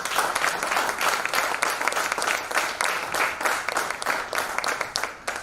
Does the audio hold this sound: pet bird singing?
no